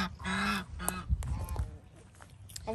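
Farm geese honking, several loud nasal honks in quick succession close by, followed by quieter calls and shuffling.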